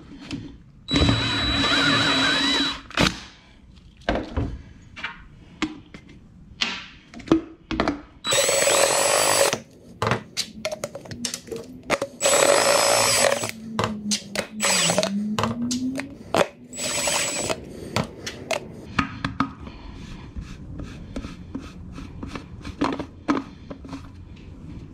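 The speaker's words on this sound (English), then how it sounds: "Drilling that hole, super easy." A power drill boring a hole in a crankcase evap tank for a Camaro, loud whirring bursts starting and stopping repeatedly alongside ratcheting clicks and tool handling noise, close up.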